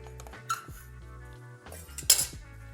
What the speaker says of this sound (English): and then just slice a bit off